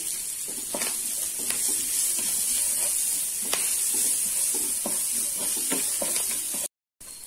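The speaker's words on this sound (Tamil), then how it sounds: "இப்போ பாருங்க வெங்காயம் வதங்கிடுச்சு." Chopped small onions and curry leaves fry in a pan with a continuous loud sizzle, broken by scattered scraping stirs and a brief gap near the end.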